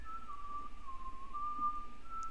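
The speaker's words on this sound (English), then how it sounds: "Who's whistling?" A lone whistled tune from a character in the Telltale Game of Thrones game, one steady sustained note that wavers slightly in pitch, clear and alone over a quiet background hum.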